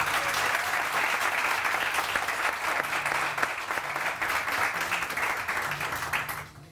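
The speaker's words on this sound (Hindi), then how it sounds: "बहुत सारी तालियां अब्दुल्ला के लिए।" A TV studio audience on a morning talk show breaks into sustained, dense applause, loud and steady throughout before easing slightly at the end.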